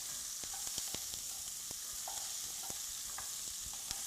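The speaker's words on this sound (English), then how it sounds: "And then we're just going to stir those around." Carrots and thyme stirred in a pot while frying for braised short ribs, a steady close sizzle with scattered soft scrapes and clicks of the spoon across about four seconds, no voices.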